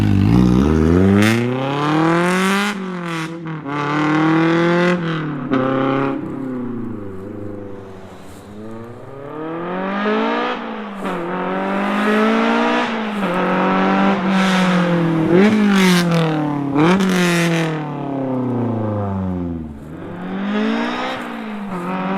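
A Honda S2000, rebuilt after a wreck, makes repeated high-revving flybys: its engine note rises as it approaches and drops as it passes, several times in a row, swelling loud up close and fading between runs.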